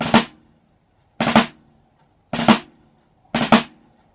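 Four crisp snare drum drag strokes, each a quick grace-note flam into a main hit, spaced about a second apart with silence between.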